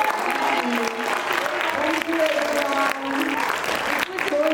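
Applause from an audience at the Muskaan Literature Festival for child authors, a steady clatter of clapping heard under a person speaking briefly to the crowd.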